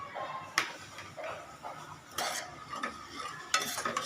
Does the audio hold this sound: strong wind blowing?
no